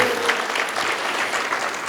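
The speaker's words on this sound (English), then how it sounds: "Clap it up if you still believe in the American dream." Brief, dense applause from an audience at a medical association gala, many hands clapping at once in a steady, close wash of sound.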